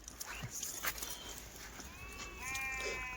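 Kathiawari goats on a goat farm bleat in a few short, faint calls near the end, over a quiet outdoor background with no talk.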